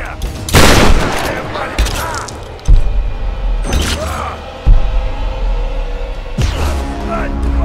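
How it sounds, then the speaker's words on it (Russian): Gunshots in the video game Tomb Raider: four sharp, loud blasts spaced a couple of seconds apart, each followed by a ringing decay, with a voice talking between and over them. "я на тебя сейчас все патроны потрачу"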